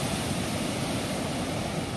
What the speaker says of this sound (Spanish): de este fuerte oleaje que se viene registrando desde hace prácticamente unas 12 horas